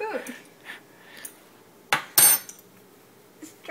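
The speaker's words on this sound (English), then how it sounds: "Get a spoon." Metal cutlery clinks against dishes as a spoon is grabbed in a kitchen, giving a few sharp, close rattles and taps among quiet handling sounds.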